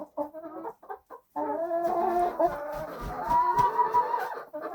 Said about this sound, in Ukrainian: Отакі в нас курочки. Різні породи.